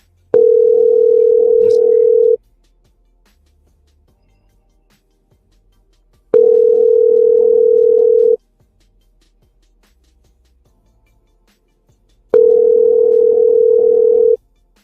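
Three identical steady telephone dial tones, each about two seconds long, separated by roughly four seconds of silence, loud and clear with no talking.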